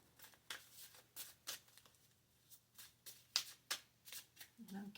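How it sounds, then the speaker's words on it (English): Star Tarot cards being shuffled by hand, a quick run of soft papery riffles and flicks, fairly close and quiet, with no talking. "I'm going to pull one of these beautiful cards from the Star Tarot"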